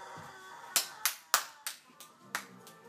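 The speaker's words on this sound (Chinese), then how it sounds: "你就拍拍手" Children playing on a hotel bed clap their hands about seven times in an uneven rhythm, each sharp, close clap standing out against a quiet room.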